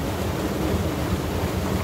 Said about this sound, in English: This is river water.